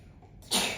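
A single quick, breathy sneeze bursts out at close range after a brief quiet moment.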